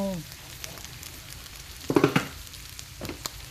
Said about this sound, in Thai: วันนี้เราผัดพริกแกง อยู่นะ